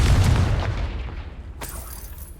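A Confringo spell explodes in Hogwarts Legacy, a heavy booming blast with a deep low rumble that slowly fades, followed by a brief sharp crackle near the end.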